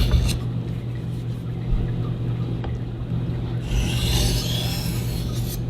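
A knife is swiped along a Shapton Ha No Kuromaku sharpening stone, giving a soft, continuous rasping scrape under a low steady hum, with a brighter stroke near the end.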